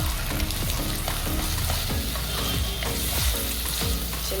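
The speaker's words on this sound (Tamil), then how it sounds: "இப்போ நம்ம இந்த சின்ன வெங்காயத்தை அதில் போட்டுக்கலாம்." Small onions sizzle steadily in hot oil in a pan, with rhythmic scrapes and knocks of a spoon stirring them close up while garlic kuzhambu is made.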